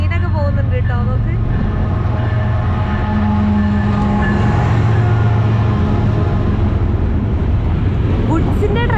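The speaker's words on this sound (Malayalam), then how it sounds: "ഗുഡ്സിന്റെ ട്രെയിനാണ് പോകുന്നത്" A goods train rolls past close by in a loud, continuous rumble of wagons with rhythmic clatter from the rails and tonal squeals, while a voice speaks over it.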